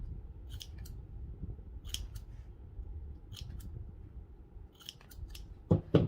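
Scissors snip through fabric and craft material while making a Day of the Dead gnome, giving a handful of short, crisp cuts spaced through the stretch, close and fairly quiet, with a louder pair of snips near the end.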